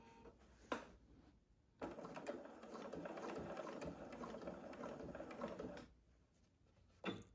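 A home sewing machine stitches the seam of a fabric oven mitt, a single steady whirring run of about four seconds with a few quieter taps before and after.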